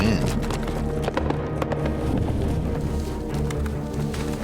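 Horses gallop in a horse race with dense, rapid hoofbeats that pound steadily and loudly the whole way, along with faint background sounds.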